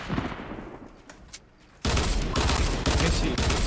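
Gunfire in the video game Fortnite Battle Royale: scattered shots over background noise, then a sudden loud burst of rapid automatic fire that keeps going, close and dense, with players talking over it.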